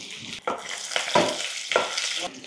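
Mustard seeds, cumin and curry leaves sizzling in hot oil as they are stirred for a vegetable kurma, a crackling fry that swells with each of several spoon strokes.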